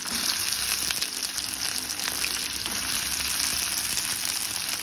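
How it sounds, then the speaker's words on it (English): Curry leaves sizzle and crackle steadily in hot oil in a kadai, a continuous close frying hiss with no talking. "I'm going to add some oil. This oil we are going to add the leaves."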